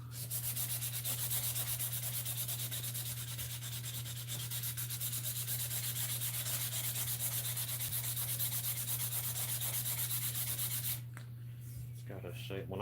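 Steady rubbing of finish onto a handmade knife handle to bring up a shine, a continuous close scrubbing texture over a constant low hum, stopping abruptly near the end.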